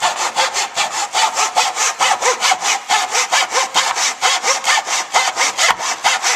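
A hand saw cuts wood in a miter box with steady, rhythmic back-and-forth rasping strokes, close and loud, roughly four strokes per second with no talk.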